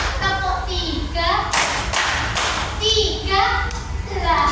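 A classroom of children claps a counted rhythm pattern together, bursts of sharp group claps between an adult's spoken cues and kids' voices, fairly loud and close.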